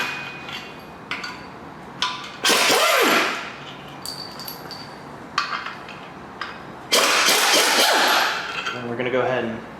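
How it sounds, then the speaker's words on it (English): A 17 mm impact gun rattles out the engine stand bolts on a 5.3L LS LM7 V8 in two loud, sustained bursts, with scattered metallic clanks and taps between them. "we can remove our engine stand apparatus here using a 17 millimeter impact gun"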